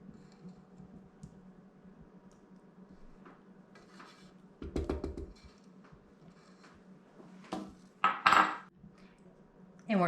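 Egg yolks are whisked in a bowl, giving faint scattered taps and clinks of metal on the bowl that build to a burst of quick, sharper rattling strokes near the end, close and without talk.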